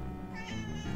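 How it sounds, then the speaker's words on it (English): Popsicle the cat gives a single short meow, fairly close and moderately loud, rising briefly in the middle of the second. "Meow."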